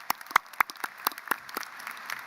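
Scattered applause at a law school commencement ceremony, a modest run of distinct hand claps, sparse and fairly quiet, thinning out over two seconds.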